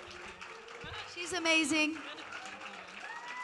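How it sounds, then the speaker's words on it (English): Audience applause at a live concert at the GRAMMY Museum, moderate clapping that swells briefly in the middle while a voice speaks over it. "Please give a huge round of applause"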